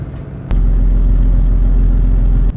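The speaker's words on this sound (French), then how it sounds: "c'est bien quand on roule sur du sable" A vehicle drives across sand toward Lake Kiriki, its engine a loud, steady low rumble that starts abruptly with a thump and holds evenly for about two seconds before cutting off.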